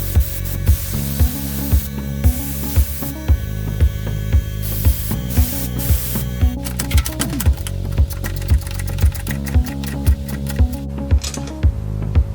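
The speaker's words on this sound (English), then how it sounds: "I will now blow some air through the swirl pot to make sure there's no swarf inside the tank." Compressed air blasts through a car fuel swirl pot during a race/rally fuel system install on a Peugeot 206 WRX project, a loud, sustained hiss with repeated short pulses and clicks recurring steadily throughout.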